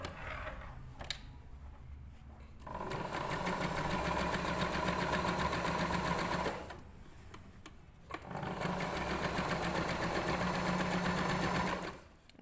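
A sewing machine stitches a fabric pencil case in two long runs of rapid, even whirring, separated by a brief pause with a few small clicks, close and clear.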